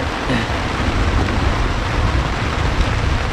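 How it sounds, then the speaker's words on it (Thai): Steady rain falling outdoors on a fishing trip, a dense, even hiss of drops with no pauses across the whole stretch, fairly loud and close. "เป็นวันที่ ฝนก็มานะครับนะ"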